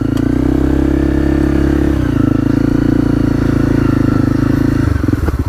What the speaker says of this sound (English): The bike is just tramlining along here